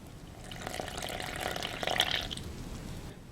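Water poured into a cup to mix a whey protein mug cake, a steady liquid splash building over about two seconds before tapering off, close and fairly soft, with no talking.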